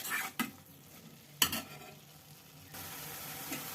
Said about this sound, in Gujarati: વીસથી પચીસ મિનિટ દૂધીના હલવાને બનતા લાગે છે આ રીતે ઘીમાં એને પકાવવાનો